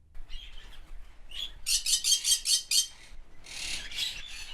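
Bird calls play back in an interactive bird-voice documentary as a quick string of bright, rhythmic chirps. A softer, buzzier burst of calls follows, loud and alone with no talk.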